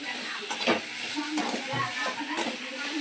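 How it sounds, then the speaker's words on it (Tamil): A generous pinch of asafoetida fries in a hot pan for a pirandai thuvaiyal, making a soft, steady sizzle with a few stirring scrapes and knocks against the pan. "இந்த சூடுலேயே இந்த பெருங்காயம் வதங்கிடும்"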